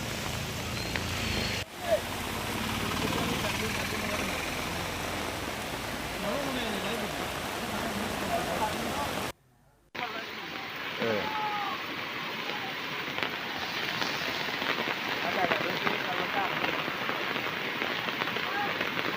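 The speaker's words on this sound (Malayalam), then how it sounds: "പലയിടങ്ങളിലും മഴവെള്ളം കുത്തിയൊലിച്ച് ഒഴുകുകയാണ്. വീടുകളുടെ മുറ്റത്തൂടെ എല്ലാം മഴവെള്ളം ഇങ്ങനെ ശക്തമായി തന്നെ ഒഴുകുന്നു." Heavy rain pours down steadily in the Chelakkara area of Kerala, with rainwater rushing through house yards. The wash of rain and flowing water is loud and continuous. It breaks off briefly near the middle, then returns just as dense.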